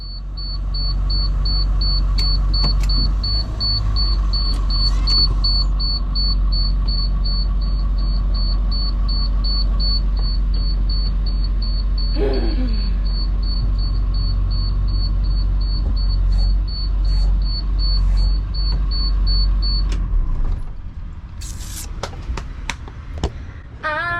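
A bus warning alarm, triggered by putting the bus into gear, beeps in a fast, even rhythm for about twenty seconds over a low idling engine, then stops.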